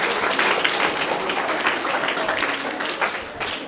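Enthusiastic clapping from a group of children and audience after a correct quiz answer at a school gathering; brisk, loud applause throughout the short span.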